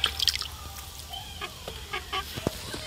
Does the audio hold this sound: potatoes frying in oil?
no